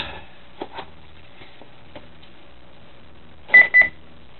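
Two short electronic beeps from an old Dell Latitude CPx laptop booting sound close together near the end, after quiet clicks and faint tapping.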